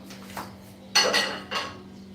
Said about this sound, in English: I'll be using this pan. It's just a big white pan, this one here.